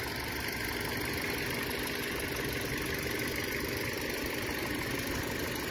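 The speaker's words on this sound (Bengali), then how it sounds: "গাড়িটা ইঞ্জিনের সাউন্ড দেখেন।" A 2017 Toyota Corolla's engine runs at a steady idle, an even continuous hum and rumble that stays close and constant throughout.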